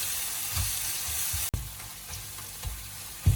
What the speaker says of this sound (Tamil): இப்போ வெங்காயம் எல்லாம் பொரிஞ்சிட்டு வெள்ளைப்பூடும் பொரிஞ்சு வந்து கொண்டிருக்குது